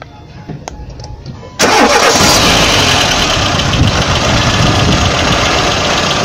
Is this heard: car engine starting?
yes